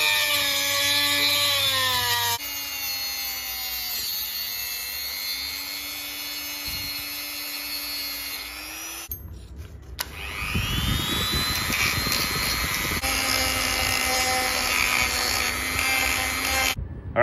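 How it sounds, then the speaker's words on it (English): A Dremel rotary tool cutting down a threaded rod for a stand fan conversion, a loud high whine with shifting pitch that stops briefly, then returns with grinding hiss, close up. "Alright, so using the Dremel method actually does work."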